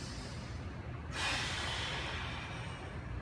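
A deep breath is drawn in during an upper-body mobility drill for golf fitness, a breathy inhale rising partway through above a low steady background hum.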